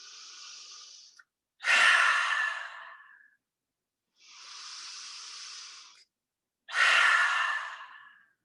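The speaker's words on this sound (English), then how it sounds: "Even breathe in through your nose." Two slow breath cycles during restorative yoga practice, each a soft drawn-in breath through the nose followed by a louder, fuller exhale, close and alone with silent pauses between.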